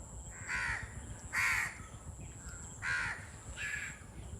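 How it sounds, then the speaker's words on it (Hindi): Crows cawing outdoors in the background, four harsh calls spaced about a second apart over a steady low rumble of ambient noise, moderately distant. "यानी कि बर्ड्स वगैरह की साउंड आ रही है करंट टाइम बैकग्राउंड में"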